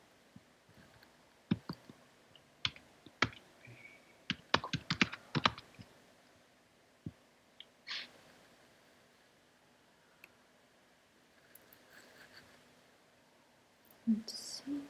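Keys tapped on a computer keyboard in short irregular bursts with pauses between, soft and close, with a faint breathy voice near the end.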